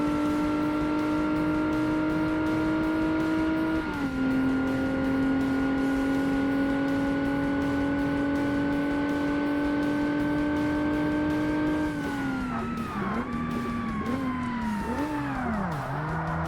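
Race car engine in Forza Motorsport on Xbox at Road Atlanta, a sustained loud tonal drone that holds steady, dips at a gear change, then wavers and swoops as the car brakes and turns through a chicane.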